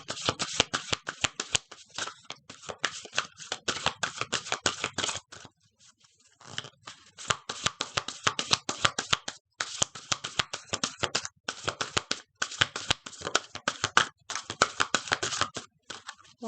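A tarot deck is shuffled repeatedly at close range, in bursts of rapid riffling card flutter separated by brief pauses.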